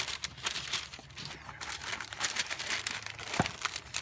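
Parchment paper crinkles and crumples steadily as it is folded around a bundle of fresh lettuce, with soft irregular rustles and a few sharper crackles close by.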